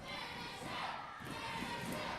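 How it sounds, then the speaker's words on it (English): A wrestling crowd shouts and chants together for Kenny Sutra to finish his opponent, a dense, continuous roar of voices heard from within the arena at moderate loudness. "The crowd clearly telling Sutra over here to finish him"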